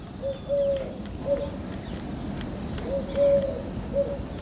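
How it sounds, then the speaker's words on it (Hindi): An outdoor bird repeats a soft cooing call several times in short phrases, fairly distant over a constant hiss of insects and background noise. "ये जो पक्षी की एक आवाज़ आ रही है, कुकू कू, शायद बगला है या कौन है।"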